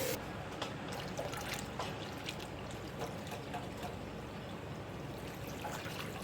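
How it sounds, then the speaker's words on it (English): Hot water pours into a pot in a steady, continuous splashing stream, close by, with a faint background hum underneath. "I'm going to add a little more hot water to it"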